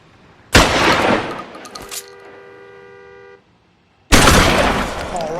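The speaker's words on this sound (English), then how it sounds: "Lay down some cover and fire." Two heavy bursts of gunfire in the crime game L.A. Noire, each a sustained roar of shots lasting over a second, separated by a lingering ringing tone and a short silence.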